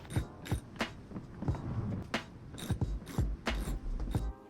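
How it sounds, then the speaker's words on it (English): Screws being tightened on a damaged rear wing of a Toyota Supra MKV, giving close mechanical ratcheting clicks and creaks in irregular bursts, with no talking. "here I basically tightened all the screws in"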